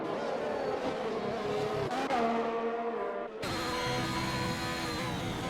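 Race cars roaring through the chicane and down the pit straight at Imola in a racing video game, engines whining loud and continuous with a sharp gear-shift drop near the end.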